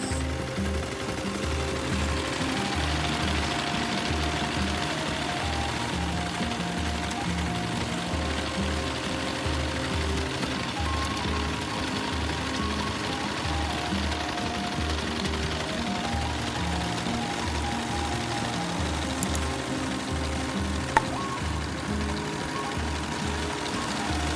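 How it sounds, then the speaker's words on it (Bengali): A paddy rice threshing machine runs in a harvested rice field near Sylhet, giving off a continuous loud, rhythmic mechanical chugging and rattling that holds steady throughout. "অত্যন্ত সুন্দর সেই সোনালি ধানগুলো যখন মেশিনে মাড়াই দেওয়া হচ্ছে"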